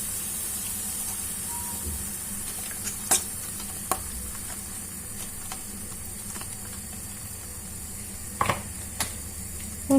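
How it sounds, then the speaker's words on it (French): Mushroom cream sauce sizzles steadily in a hot pan while a utensil stirs it, with soft scraping and a few sharp clicks against the pan over a constant frying hiss. "On touille."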